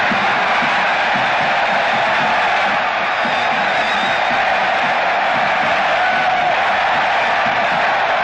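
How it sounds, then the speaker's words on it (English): Large festival crowd at FESTAC '77 in Nigeria cheering and whooping in welcome, a loud, dense, unbroken roar of voices sustained throughout. "the crowd gave its biggest and warmest welcome"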